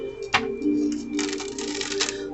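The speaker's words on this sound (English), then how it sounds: "And let us get to shuffling." Soft papery riffling and light clacks of tarot cards being shuffled on a table, a brief sharper snap near the start, with a faint steady hum underneath.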